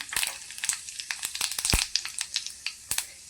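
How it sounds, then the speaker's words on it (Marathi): Cumin and mustard seeds hit about two spoonfuls of hot oil and crackle close by in quick irregular pops and spits over a faint sizzle, with no talk. "तेल गरमही झालेलं आहे. तर याच्यामध्ये आपण जिरे आणि मोहरी टाकून घेऊया"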